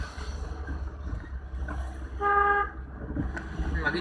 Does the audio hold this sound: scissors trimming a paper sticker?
no